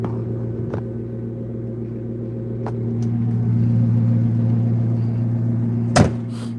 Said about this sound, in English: Y'all hear that idle?